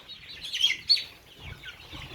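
Farm chickens raised in packed pens cluck a few times nearby, short bright calls rising over a low, quiet background murmur.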